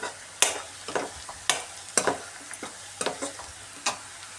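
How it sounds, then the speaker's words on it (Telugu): Chicken frying in a pan, soft sizzling broken by a series of sharp scraping stirs at irregular intervals, close and fairly quiet, with no talking. "ఇది ఇంకా కొంచెం వేగాలి."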